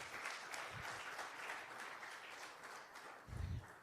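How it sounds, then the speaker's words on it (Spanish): A church congregation applauds steadily at a Spanish-language service, dense clapping filling the space with a couple of low thumps near the end. "Dele un aplauso al Señor."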